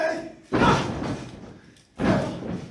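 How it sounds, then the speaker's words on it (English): Two heavy thuds of a wrestler being slammed onto the ring mat in a DDT at an IWE heavyweight title match, each a sharp impact followed by a fading rumble, spaced about a second and a half apart. "Tony Caurdiea's head driven directly into the mat"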